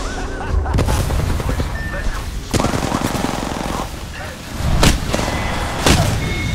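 Apex Legends Season 3 firefight with rapid bursts of automatic gunfire and sharp single shots, loud and close, mixed with a few booms while a player talks over it.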